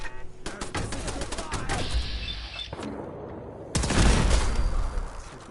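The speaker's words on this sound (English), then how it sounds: "I hear a machine gun turret" Machine gun turret firing in Fallout 4, a sustained burst of dense automatic fire with heavy thuds, easing briefly and then returning louder near the end.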